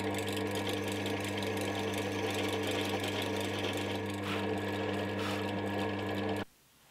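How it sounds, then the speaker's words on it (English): A drill press bores a hole in wood for a guitar stand, producing a steady, close motor hum with a grinding cut on top that stops abruptly near the end. "I'm going to try and drill with me pushing the column over so that I can get it a bit more precise"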